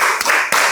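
A primary class claps together in a quick rhythmic pattern, with brief pauses between bursts of many hands. The sound is close and loud, with no voices.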